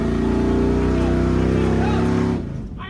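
A loud engine on the '70 junkyard car holds a steady high rev against the torque converter for over two seconds, harmonics rising slightly, then drops off sharply near the end.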